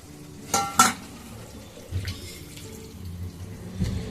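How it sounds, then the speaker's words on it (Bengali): Warm water poured into a pan of potato, pointed gourd and egg curry over fried spices, a couple of brief sharp splashes followed by low sizzling and stirring, close by with no voices. "এখন এবারে আমি দিয়ে দেবো একটু উষ্ণ গরম জল"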